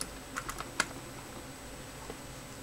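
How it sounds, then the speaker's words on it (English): Small plastic clips on an Acer Aspire One 522 laptop keyboard are pushed in to pop the keyboard up, giving a few faint, sharp clicks and taps close by, scattered over a quiet background. "Just pushing those in, that should pop the keyboard up."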